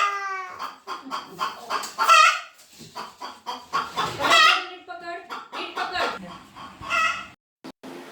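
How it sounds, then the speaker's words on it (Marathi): A hen clucks and cackles in repeated bursts close by after laying an egg, with voices mixed in among the calls. "बघा ना, कोंबडीने अंडा दिला."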